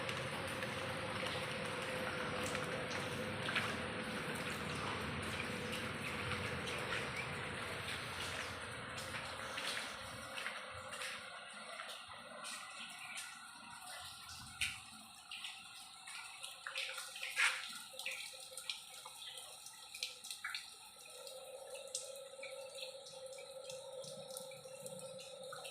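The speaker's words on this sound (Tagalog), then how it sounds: "Naulan na nga dito sa loob ng bahay." Rain leaking into a house, water dripping and trickling indoors, with steady rushing rain early on, then scattered drips and splashes, continuous and moderately loud.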